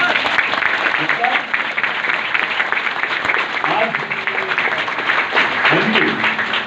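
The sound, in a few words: audience applause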